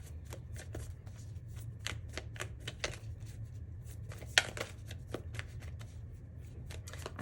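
Tarot cards being shuffled close by, a string of quick crisp riffling snaps and soft slides at an uneven rhythm, fairly quiet over a low background hum.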